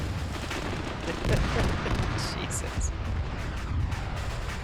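Dense continuous gunfire and explosions in a military video game, a steady roar of shots and blasts with bright sharp cracks, while a voice briefly exclaims over the din.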